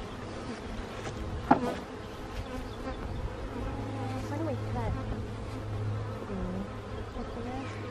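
Bees massed inside a dishwasher, a continuous low drone of buzzing close by, with faint voices and small knocks in the background.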